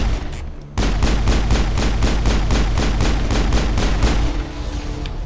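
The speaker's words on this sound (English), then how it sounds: "That's those fucking rocket turrets, then." Rocket turrets in Mass Effect fire a rapid, evenly spaced volley of about a dozen booming blasts, loud and close, then stop.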